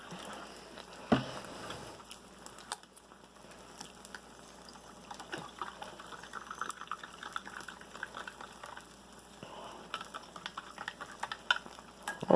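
Food sizzling and bubbling in a flaming pan, a steady low crackle with scattered pops and stirring clinks, fairly quiet and close, with no talking.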